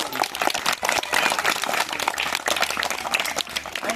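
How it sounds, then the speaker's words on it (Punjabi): A crowd of children claps at a school-level sports prize distribution, dense, continuous applause of many quick overlapping claps, fairly close and steady for several seconds with a faint voice beneath. "ਆਪਾਂ ਸਾਰਿਆਂ ਨੂੰ ਜ਼ੋਰ ਨਾਲ ਤਾੜੀਆਂ ਨਾਲ ਕਲੈਪਿੰਗ ਕਰ ਦੇਣਾ"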